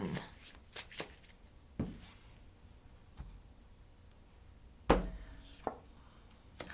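Tarot cards riffle and slap in scattered bursts, a few sharp snaps between quieter shuffling, with no talking.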